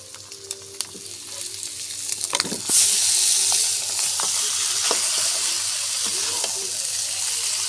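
Noodles fry with egg and potato in a pan, scattered clinks and scrapes of stirring at first, then a sudden bright hissing sizzle that carries on steadily under continued stirring.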